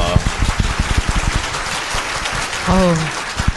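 Audience applause at a Korean political talk event, a brief scattered burst of claps under a man's speech that rises and falls across the moment.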